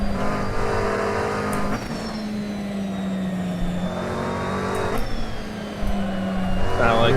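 A GT3 race car engine in a sim racing game drones steadily, its pitch rising and falling through gear changes with brief tire squeal, while a voice talks over it.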